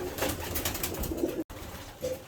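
Pigeons coo softly in a loft of well-bred birds, with several low, rolling calls repeating close by against quiet background noise.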